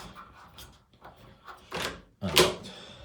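A newly fitted door lock worked by a locksmith: soft mechanical clicks and rattles, then two sharper clunks of the bolt and handle, close up and fairly loud.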